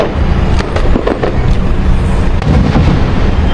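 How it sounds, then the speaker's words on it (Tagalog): Birthday fireworks going off nearby, a loud, sustained barrage of crackling and booming bursts that runs without a break from start to finish. "Ayan na po yung pa-fireworks ko kay Kamarikoy mga ka-business."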